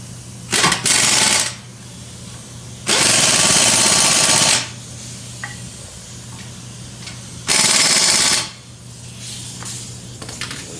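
A power tool tightens the front brake caliper bolts on a 2009-2017 Dodge Journey, firing three loud, close bursts of harsh rattling whir separated by quiet pauses.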